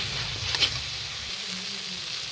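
Ground garam masala and meat masala spices sauté in hot oil in a pan for ghugni, giving a quiet, steady sizzle close by with a brief stir-like rustle near the start.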